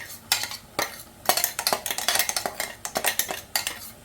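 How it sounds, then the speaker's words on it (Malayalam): Ground coconut paste being stirred into mixed vegetables for Kerala-style aviyal, a spoon clinking and scraping against the pot in quick irregular strokes, close and quiet, without speech. "എന്നിട്ട് എല്ലാം കൂടെ ഒന്ന് ഇളക്കി യോജിപ്പിക്കണം"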